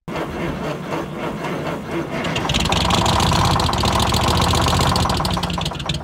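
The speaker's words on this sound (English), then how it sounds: "Construction foremen knew their equipment was running right when they heard that unmistakable roots blower whine" A loud Detroit Diesel two-stroke engine runs steadily, its rough idle rising into a harsher, higher-pitched roots blower whine midway, continuous and close throughout.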